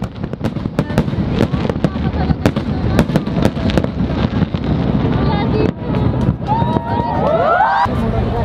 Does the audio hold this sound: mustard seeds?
no